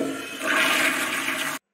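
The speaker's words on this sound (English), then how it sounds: "That's my toilet flushing." A household toilet flushes with a loud rushing gush of water that swells, holds steady, then cuts off abruptly into silence.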